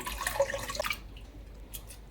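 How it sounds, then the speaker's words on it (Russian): Cold water runs and splashes briefly over octopus for under a second, then gives way to quiet dripping and faint trickles. "Промываю обязательно в холодной воде."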